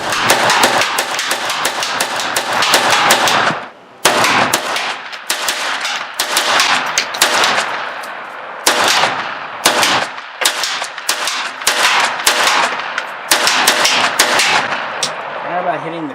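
A Czech Vz.61 Skorpion carbine in 9x18 Makarov firing from a 20-round magazine, loud sharp shots in rapid bursts and quick strings with short gaps between them, recorded close up.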